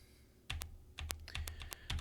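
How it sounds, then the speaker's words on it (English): Separate key presses on a 1993 Packard Bell computer keyboard, about five crisp, fairly quiet clicks spaced unevenly as the arrow and plus or minus keys are used in a setup screen, with no talking. "use the arrow keys to select, and then use the plus and minus keys"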